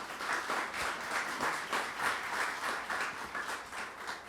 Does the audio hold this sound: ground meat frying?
no